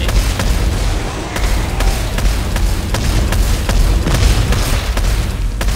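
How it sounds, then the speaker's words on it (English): Repeated sharp shotgun blasts from the Dead Space 3 video game, booming in an irregular rapid volley over a dense, loud game soundscape with no voices. "My shotgun's pretty cool here."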